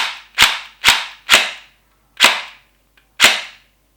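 A 3DG G17 gel blaster fires five loud, snappy shots at uneven intervals, each a crisp crack with quick decay and silence between, close to the listener and with no talk.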